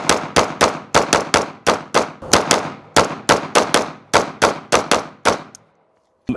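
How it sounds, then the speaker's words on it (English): Springfield TRP pistol fired in rapid strings outdoors, about twenty sharp loud cracks in irregular bursts with short ringing decays, close to the listener and ending in a brief pause before one last shot. "So let's shoot some rounds."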